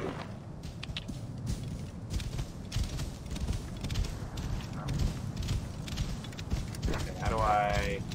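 A horse's hooves clop in a steady, quick rhythm in a video game, the beats repeating through the whole stretch over other game sounds, with a brief higher sound near the end.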